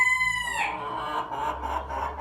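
Chickens in a coop, a rooster's crow ringing out at the start and fading, followed by low clucking from the flock, close and clear with no voices.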